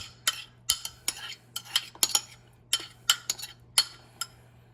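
A spoon clinks and scrapes repeatedly against a bowl while jalapeño cheddar cornbread batter with butter is mixed, giving a steady rhythm of close, bright taps over a low background hum, with no talking.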